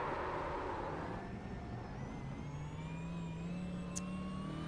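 A race car engine in the iRacing sim at Homestead hums and whines steadily at constant throttle, a continuous mid-loud drone with shifting pitch and no talk.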